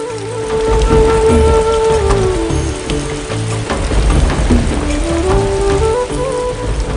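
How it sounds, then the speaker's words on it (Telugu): Heavy rain hisses continuously, a thick steady downpour with musical tones layered on top and no speech. "అయినా గాని వర్షం ఏమాత్రం తగ్గదు"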